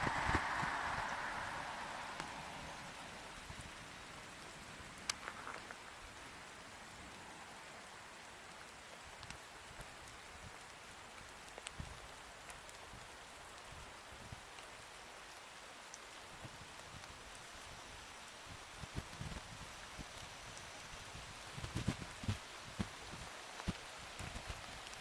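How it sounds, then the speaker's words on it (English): Rain starts to fall at an overlook on a hot, stormy day, with soft, faint pattering and scattered drops on a car roof over a quiet background. "Oh, and it's starting to rain."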